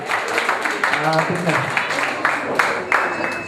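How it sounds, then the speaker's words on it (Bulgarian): An audience claps and applauds in a steady patter at a lively folk gathering, loud and close, with someone talking and a voice calling out over the clapping. "Аплодисменти!"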